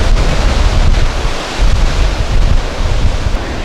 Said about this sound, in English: I can see the waves crashing against the drone